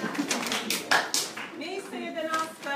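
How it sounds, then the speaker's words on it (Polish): Clapping at a regatta award ceremony, brief moderate applause over the first second or so, then trailing taps fading under speech and crowd voices. "Brawa!"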